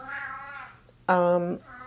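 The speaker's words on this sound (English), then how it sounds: "The cat will wake you up, meowing, possibly very loudly in the hallway" A house cat meows loudly in two drawn-out, tonal calls, the second louder and sharper, close and clear with no other sounds around.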